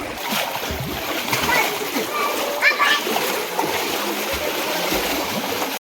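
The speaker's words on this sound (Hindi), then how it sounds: "रोड के ऊपर से जो है पानी छलके चालू हो गए" Floodwater spills and splashes over a road in a flooded village, a loud, steady rush of sloshing water heard up close, with voices talking over it at times.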